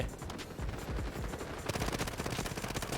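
MP7 submachine gun fired in the shooter Delta Force, fast rapid-fire bursts close and loud, a steady rattling stream that intensifies partway through, with no talk.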